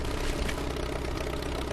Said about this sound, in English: listen, the hum of a healthy engine.